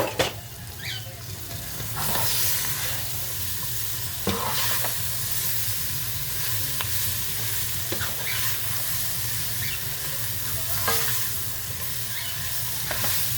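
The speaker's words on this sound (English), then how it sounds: "Since these are smaller chunks of lamb, I'm going to use a spatula to sort of stir it and flip it" Small chunks of lamb brown in a hot pan, a continuous close sizzle broken by periodic scraping and flipping strokes of a spatula every couple of seconds, with no voices.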